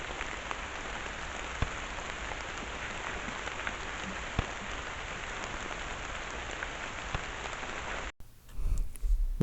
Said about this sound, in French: Et là, tiens, on écoute la pluie.